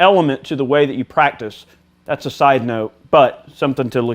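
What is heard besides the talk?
No everyday noise stands out behind the speech.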